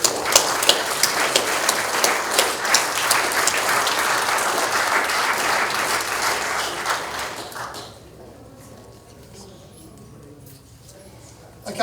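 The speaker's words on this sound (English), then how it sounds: "Round of applause, please." Audience applause at a speech event on a family law amendment bill, with a steady burst of clapping for about eight seconds that then drops away to quiet room tone.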